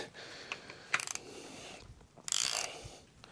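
A hand ratchet tightens bolts on a 1949 engine during engine swap prep, giving short bursts of rapid clicking and a louder grinding pass, close by with no talking.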